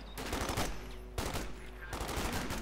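MG-34 machine gun fire in Company of Heroes 2 comes in three rattling bursts, each a rapid string of shots lasting about half a second to a second, with quieter gaps between them.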